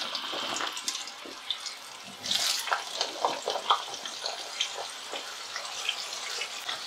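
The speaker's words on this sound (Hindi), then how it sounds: "आलू को हम फ्राई करेंगे 3 से 4 मिनट के लिए" Small potato pieces fry with whole cumin seeds in hot oil, giving a busy crackling sizzle with scattered pops and bursts, moderately close and unbroken by talk.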